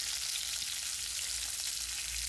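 Pieces of vatta fish frying in hot oil give a steady, dense sizzle that holds evenly throughout, close and fairly loud with no voices.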